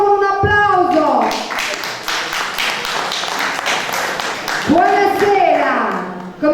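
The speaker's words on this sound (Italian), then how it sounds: "accogliamolo con un applauso" A studio audience applauds to welcome a guest at a Neapolitan music festival show, a sustained wash of clapping between a host's voice at the start and talking that resumes near the end.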